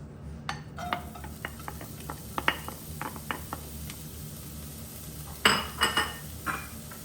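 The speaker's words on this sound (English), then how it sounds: "Onto that, I'm going to add my onions." Onions tip into a pan for frying, giving a run of light clinks and scrapes of metal and utensils, then a louder clatter and stirring near the end, close by with no voice.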